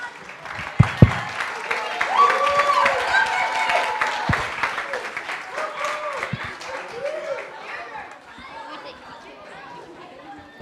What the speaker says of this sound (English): One more round of applause for memorization.